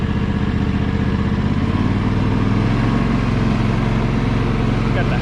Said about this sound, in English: This thing's really quiet. It has a Kawasaki engine in it.